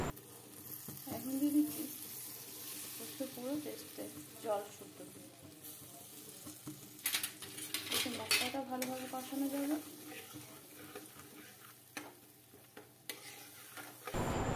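Poppy seed paste fries in oil in a pan, stirred with a utensil that scrapes and clinks now and then over a soft sizzle, while a person talks at intervals throughout.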